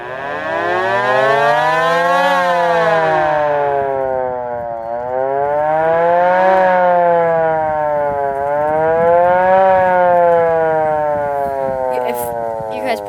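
Tornado warning sirens, a Model L, a Model A and an MS 490, wail together in a test, loud rising and falling tones sweeping up and down in slow repeating cycles.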